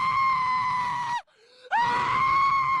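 A girl's long, loud, sustained scream of terror in a horror tale, breaking off for a moment and then resuming just as shrill and steady.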